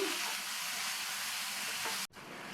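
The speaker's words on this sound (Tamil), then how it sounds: "இப்போ இதை நல்லா எண்ணெயிலேயே வதக்கி விட்டுட்டு" Tomato and green chilli fry in oil for brinjal pachadi, giving a steady close hiss that cuts off abruptly near the end before resuming more quietly, with no voices.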